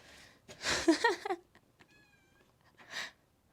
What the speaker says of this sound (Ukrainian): навіть кішка у нас тут є